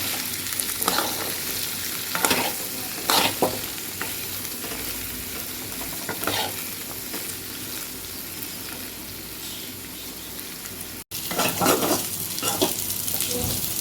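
Potatoes and beans fry on low heat in a pan, a continuous close sizzle broken by repeated scraping stirs and occasional spoon taps.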